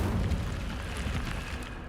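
Incendio fire spell cast in Hogwarts Legacy, a dense roaring burst of flame that swells and fades over about two seconds.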